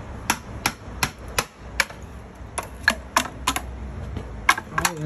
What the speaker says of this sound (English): I'm splitting the bamboo with my trusty 16-ounce hammer